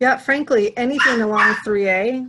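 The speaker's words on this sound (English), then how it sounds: "that's my dog in the background" A dog's drawn-out whimpering howls and yips, loud and near, run continuously behind someone talking during a committee meeting.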